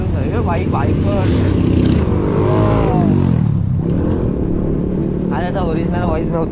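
A motorbike fitted with a fake aftermarket silencer revs loudly on a busy city road, its engine note rising and falling close by, while a person talks over it.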